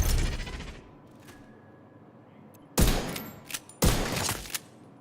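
Rifle fire in The Division 2, with a loud burst near the start, then two sharp, heavy reports about a second apart that each ring out briefly over a quiet ambient game bed.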